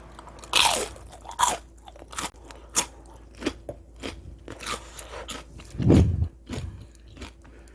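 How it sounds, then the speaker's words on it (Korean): Crispy, once-fried battered food is bitten and chewed up close, giving loud irregular crunches and crackles in bursts, with quieter chewing between them. "이거는 한 번만 튀겼는데도 너무 바삭해요"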